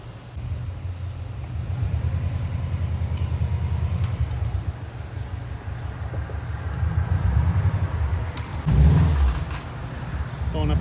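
A 2003 Subaru WRX with Truhart lateral links and sway bar bushings idles and creeps up alignment ramps, a steady low engine rumble with a brief heavier thump near the end, close and continuous.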